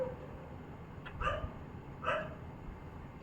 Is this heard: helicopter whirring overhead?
no